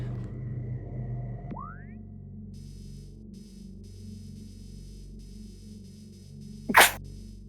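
A single sharp, loud sneeze bursts out near the end over quiet video game sounds from Metroid Prime 2, with faint low hum and tonal game effects underneath.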